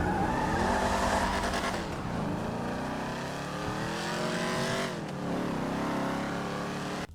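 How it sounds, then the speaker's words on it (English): A V8 car engine roars steadily and loudly in a racing video game, holding a strong throaty note with gear shifts and pitch swings, alone with no talk. "I really like the roar of a V8 engine."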